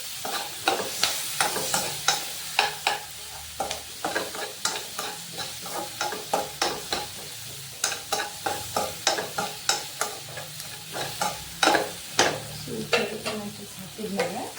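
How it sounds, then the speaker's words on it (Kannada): Cherry tomatoes fry with onion and chilli in a pan, a constant sizzle under a steady run of rhythmic scraping stirs, close and clear, with no talking. "ಈರುಳ್ಳಿ ಮೆಣಸಿನಕಾಯಿ ಎಲ್ಲ ಬೆಂದಿದೆ ಈಗ. ಸೊ ನೆಕ್ಸ್ಟ್ ನಮ್ಮ ಚೆರಿ ಟೊಮ್ಯಾಟೋಸ್ನ ಹಾಕೋಣ."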